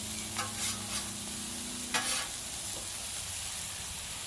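Burger patties frying in a pan over lowered heat give a steady close sizzle, with a few soft scrapes and a brief clatter as they are turned.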